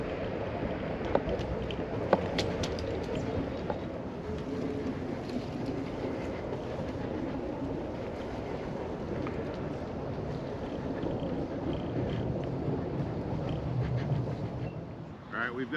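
A Ladped LP80 budget 350W electric scooter without suspension rolling over wooden planking, a steady low rumble with occasional clacks as the wheels cross the boards, wind noise throughout, no voices.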